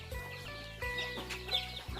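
Chickens cluck on a small rural Thai farm where ducks are also kept, with several overlapping bird calls and a faint crowing-like tone, fairly close and continuous.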